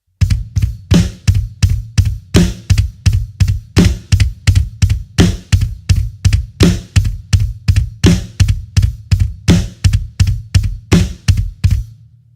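Rapid, evenly spaced pairs of low kick drum thumps, played as heel-toe doubles with the right foot, with crisp hi-hat ticks, repeating steadily in a tight drum pattern throughout.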